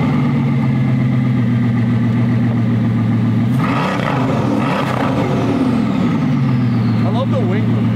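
A Bugatti with a titanium aftermarket exhaust runs with a loud, steady low engine drone, its tone shifting briefly midway through while people talk nearby.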